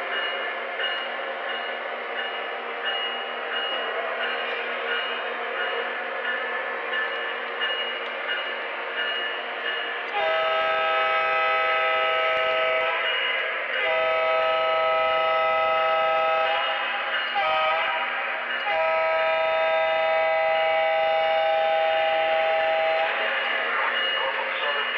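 Model Santa Fe Dash 9 and Norfolk Southern 3GS21B diesel locomotives on a layout give a long, steady tonal drone with a sustained horn-like chord that cuts in and out several times, loud and close.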